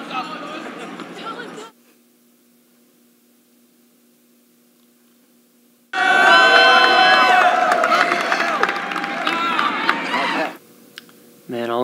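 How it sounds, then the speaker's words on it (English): Spectators at a university event cheer and shout in a loud burst of crowd noise with raised, sustained voices, set between quieter stretches of near silence and a spoken voice. "That's what cheering's all about"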